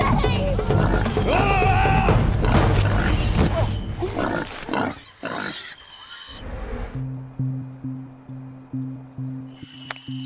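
Wild pigs in a rainforest make loud, rough grunting and crashing sounds for about six seconds. The noise then stops abruptly, leaving a steady insect-like drone and faint forest ambience.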